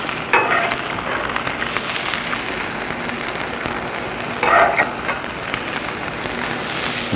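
Food sizzles on a hot Blackstone griddle while making crustless pizza, a steady close frying hiss running throughout, with two brief sharper crackling bursts near the start and again around the middle.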